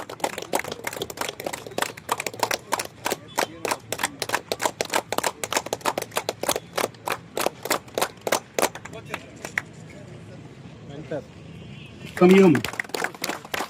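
Audience clapping at a police versus reporters friendly cricket match event run by a district press club in Krishnagiri, a steady run of sharp claps lasting several seconds, then thinning out, with a voice speaking over the crowd.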